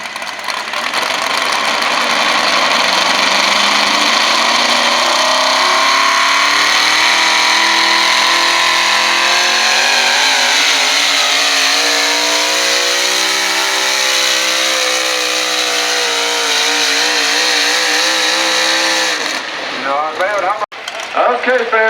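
Blue pulling truck named the Gambler, a Chevrolet, revs hard at a truck pull at the Grange Fair, a loud sustained engine roar climbing in pitch for about twenty seconds before cutting off abruptly.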